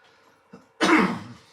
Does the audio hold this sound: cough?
yes